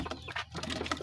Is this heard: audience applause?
no